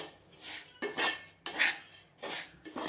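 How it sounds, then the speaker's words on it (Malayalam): Avalose flour roasting in a pan while being stirred constantly, a series of about five rhythmic scraping sweeps of a spoon against the metal, close and moderately loud. "ഇനി കൈവിടാതെ ഇളക്കണം, അല്ലേ പെട്ടെന്ന് കരിഞ്ഞു പോകും"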